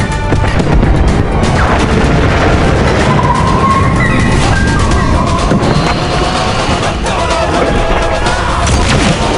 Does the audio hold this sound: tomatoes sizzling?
no